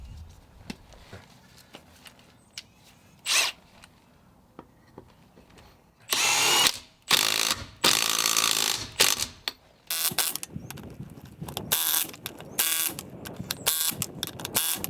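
Impact gun tightening lug nuts on a snowmobile trailer wheel: several loud, close bursts of ratcheting hammering, separated by brief pauses and quieter handling noise.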